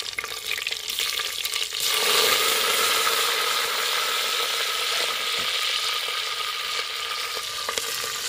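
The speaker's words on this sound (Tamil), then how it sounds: "இப்போ அந்த எண்ணெயிலே வணக்கிறதுக்காக வந்து அரிஞ்சு வச்சு கத்திரிக்காய் போட்டாச்சு" Sliced eggplant frying in hot oil with mustard seeds and green chilies for a homemade masala kuzhambu, a loud, close, continuous sizzle with crackling pops and an occasional scrape of stirring.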